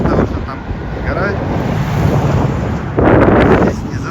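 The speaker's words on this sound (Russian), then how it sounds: "Здесь очень ветрено, но очень красиво." Strong wind roars and buffets the microphone on a coast above a canyon, with crashing surf mixed in, loud and continuous and briefly gusting harder.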